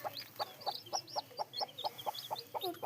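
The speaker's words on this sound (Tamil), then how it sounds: "இருக்குது பாருங்க நம்ம கோழி." A hen with seven newly hatched chicks clucks in a steady, rapid series of soft, evenly spaced calls, fairly quiet and close, while thin high peeps flicker above them.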